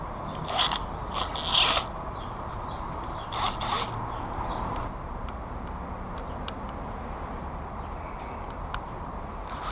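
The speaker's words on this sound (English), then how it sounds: "I'm going to have to loosen up this star bolt right here, pull it out, loosen this," A star bolt is loosened on the switch housing of a Harley-Davidson Iron 883, heard as close clicking and ratcheting mechanical taps in brief bursts early on over a steady low background hiss, with no voices.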